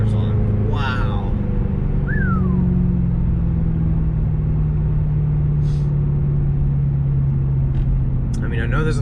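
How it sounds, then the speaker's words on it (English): Shelby GT500 fitted with a Borla Atak exhaust, heard while driving: a loud, steady, deep exhaust drone holds throughout, with brief excited voices near the start and end. "Man, this thing sounds good now with these mufflers on."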